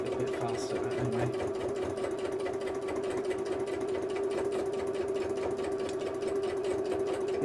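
A sewing machine runs steadily while stitching a bird wall hanging, a fast continuous mechanical whir with rapid needle ticking, close and even throughout.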